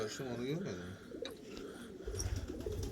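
Pigeons coo softly in a rooftop loft in Kahramanmaraş, Turkey, with low, rolling calls under a voice as he speaks over them.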